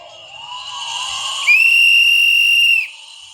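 A shrill protest whistle sounds, first softer and wavering, then a loud sustained blast for over a second before cutting off.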